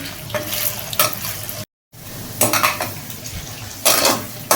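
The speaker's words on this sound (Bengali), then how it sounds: "আলুগুলো ছোট ছোট টুকরো করে কাটা হয়ে গেল এরপরে এটা তেলের মধ্যে দিয়ে দিলাম ভাজার জন্য" Small cut potato pieces frying in oil in a pan, a steady crackling sizzle with louder bursts of stirring and utensil scraping against the pan, broken by a brief silent gap.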